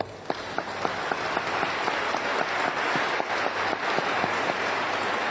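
A church congregation at Sunday Mass applauding members celebrating their birthdays. Moderately loud, continuous clapping from many people in a reverberant hall, with a few sharper individual claps standing out, holding steady throughout.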